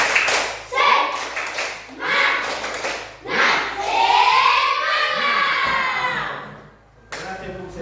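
A classroom of children performs a rhythmic clapping chant, bursts of patterned claps alternating with loud shouted chanting voices, close and lively, ending with a short final clap burst.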